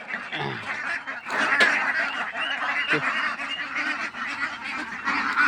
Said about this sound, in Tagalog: Ngayong umaga, papaligo tayo ngayon sa ating alagang itik.